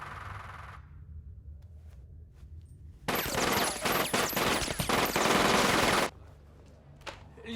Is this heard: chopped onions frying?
no